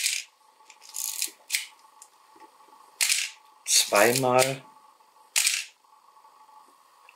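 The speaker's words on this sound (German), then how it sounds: "kann ruhig einmal auslösen und dann können wir jetzt hier zumachen" Shutter release of a Cosina CS-1 analog film SLR camera: a short mechanical clack with a brief ratcheting film-advance sound, close and clear, set between soft handling rubs and bursts of talk.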